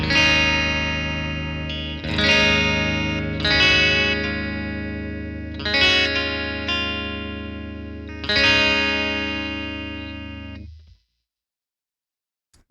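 Clean electric guitar tone through a Neural DSP Rabea amp with added effects, playing ringing sustained chords struck about every two seconds, wide and chorus-like with reverb tails, alone and fairly loud before stopping abruptly.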